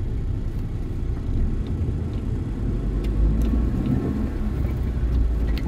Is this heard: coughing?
no